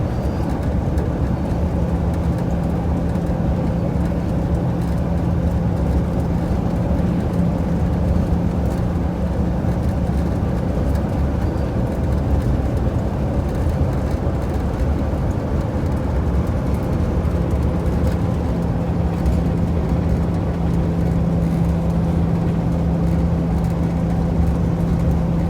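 A GM 4106 bus runs along a straight stretch of road with a steady, loud engine drone and road rumble heard from inside the cabin. The noise continues unbroken throughout.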